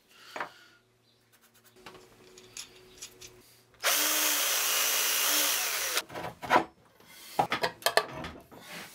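A bench grinder being fastened to a workbench, with scattered knocks and handling sounds, then a steady loud power-drill whir lasting about two seconds, followed by more clattering work noises.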